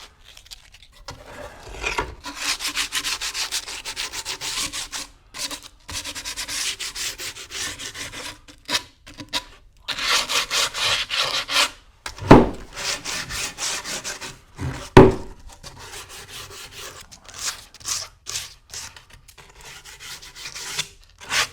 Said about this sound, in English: finally, the last touch is a little bit of sandpaper.